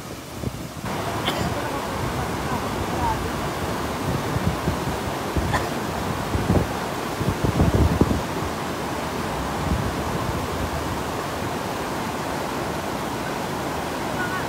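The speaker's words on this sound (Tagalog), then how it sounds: "dahil sa sobrang lakas ng current ng tubig" Strong floodwater from Typhoon Ulysses rushes past during a police rescue of trapped residents, a dense, continuous roar, loud and close, with a few surges and faint voices underneath.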